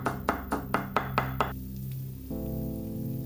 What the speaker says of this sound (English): I like to smash it first to help along the mincing process.